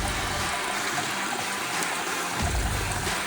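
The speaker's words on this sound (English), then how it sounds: "pour your hot water on top and watch the brew" Hot water pours steadily over packed coffee grounds in a camping coffee maker, a continuous rushing, splashing flow heard up close with no talking.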